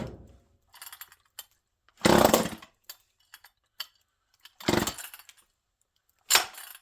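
A Homelite chainsaw with recoil issues is pull-started with the choke being adjusted: three loud bursts of engine sputter, each dying out after a second or so, separated by quiet clinks and handling noises.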